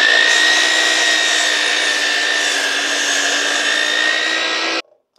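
A power tool cuts steadily through a clamped piece of wood for a nautical wood sculpture, a loud, continuous whining buzz lasting several seconds before stopping abruptly.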